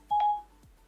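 A phone's voice assistant activates with a short electronic tone, a single clear beep lasting about a quarter second, close and distinct in a quiet room with no talk.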